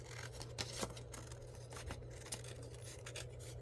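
Scissors snipping through paper while cutting out a paper dragon horn, a run of quiet, close crisp snips and rustles at irregular intervals over a low steady hum.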